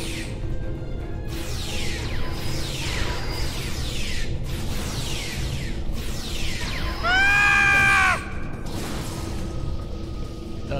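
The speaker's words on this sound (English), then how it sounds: "The scream." Repeated shrill, sweeping scream-like cries in the video game Star Trek Online, rising and falling over a constant low hum, with one louder, warbling tonal wail near the end.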